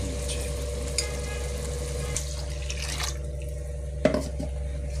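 Rice fries and is stirred in a pan with dried red chillies for mint-coriander rice, a steady close sizzle with occasional scrapes and one sharp clink of the utensil against the pan.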